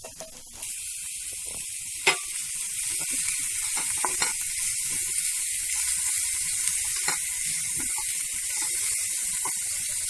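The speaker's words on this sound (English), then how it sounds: "So now let's add the onions." Onions fry in a pan with garlic, making a steady hiss of sizzling oil with a few sharp crackles and clicks. It is close and fairly loud, with no talking.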